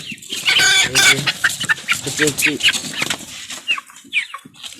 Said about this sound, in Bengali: এই মুরগিগুলা খুবই সুন্দর এবং শৌখিন